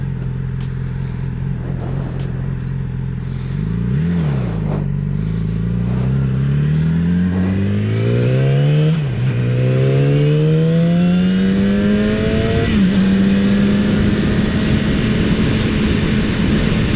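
A new 2016 Yamaha R6 sportbike on a test ride, its engine loud and close, climbing through rising revs with brief dips at gear changes and a sustained high whine, with wind roar building behind it.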